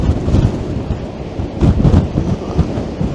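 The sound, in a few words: strong wind on the promenade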